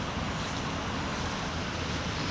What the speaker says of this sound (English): I do apologize for the vehicle noise.